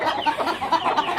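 A broody hen clucks steadily at close range in a pen shared with roosters, giving a continuous run of short, throaty clucks.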